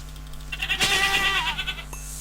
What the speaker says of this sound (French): Oh, une chèvre.